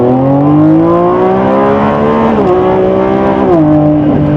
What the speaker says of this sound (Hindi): इसके रेव्स हाई रखेंगे ना तभी चार्ज होगी बैटरी, वरना चार्ज नहीं होने वाली।